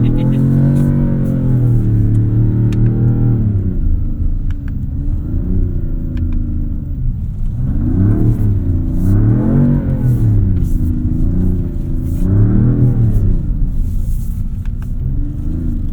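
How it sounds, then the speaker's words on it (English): A 2026 Dodge Charger Scat Pack Plus driving on snow, its engine rising and falling in repeated revs and accelerations, loud and close from inside the car, with no talk over it. "What can't you do in a rear-wheel drive car with some snow tires?"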